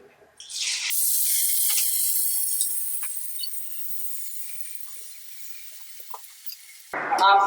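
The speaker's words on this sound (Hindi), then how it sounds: "मेरा तेल गरम हो गया। अब मैं इसको फ्राई करूंगी।" Roti cutlets go into hot oil with a sudden loud sizzle that hisses steadily, then slowly quiets. A few small pops follow, and a clatter comes at the end.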